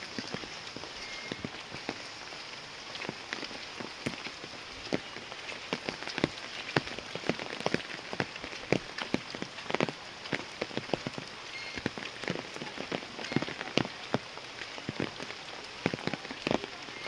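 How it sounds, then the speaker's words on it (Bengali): Light drizzling rain falls steadily, with many distinct drops tapping and pattering on nearby surfaces over a soft continuous hiss; no voices. "বেশি জোরেও বৃষ্টি হচ্ছে না, আর বেশি টিপ টিপ টিপ টিপ টিপ টিপ করে বৃষ্টি হচ্ছে"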